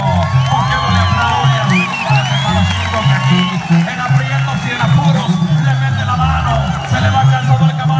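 A crowd at a Mexican horse race breaks into an ovation for a winner, with loud cheering, whoops and shouts that stay continuous and dense, close and full throughout.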